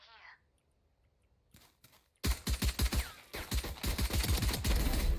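SMG fire in the video game Valorant: after a quiet moment with faint sounds, loud rapid bursts of automatic gunfire erupt and keep going, with players' voices mixed in.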